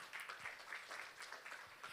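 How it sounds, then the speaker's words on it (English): Audience applause for panelists at a tech summit, a steady wash of many hands clapping at moderate distance, continuous for the whole stretch with no voices over it. "let's put our hands together for a round of applause for the panelists"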